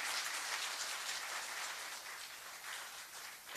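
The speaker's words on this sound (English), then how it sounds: "Another hand of applause to His Excellency." A standing audience at a Kenyan official gathering applauds His Excellency, a dense, steady patter of many hands clapping at once, moderately loud and sustained without pause before fading slightly.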